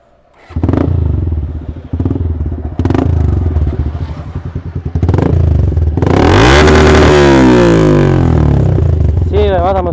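A Suzuki Gixxer motorcycle fitted with an R6 exhaust idles with a loud, deep, lumpy burble, then revs hard in rising and falling sweeps close by, with people talking over it.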